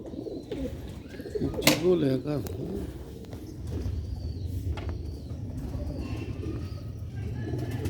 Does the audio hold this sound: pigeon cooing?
yes